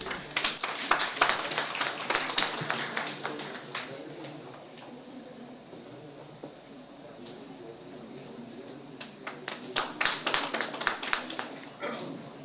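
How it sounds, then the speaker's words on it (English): Scattered clapping at a hospital in Jalandhar, in two bursts, at the start and again near the end, with a quieter murmuring stretch in between. "Can you have the big round of applause again?"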